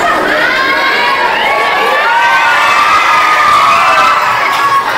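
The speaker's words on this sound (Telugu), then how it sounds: "ఎందుకు అరుస్తున్నారా? కామ్గా ఉండాలి కాసేపు." Schoolchildren shout and cheer together at a school first aid awareness programme, a loud, continuous crowd din of overlapping young voices that holds steady throughout.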